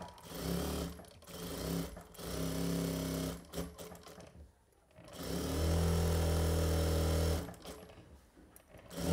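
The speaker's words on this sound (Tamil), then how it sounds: "கிளாத்தும் ரெண்டும் ஒண்ணா வெச்சி நான் தையல் போட்டு" A sewing machine stitches blouse lining and cloth together in short loud bursts of rapid rattling, with brief pauses between runs and one longer sustained run near the end; nobody speaks.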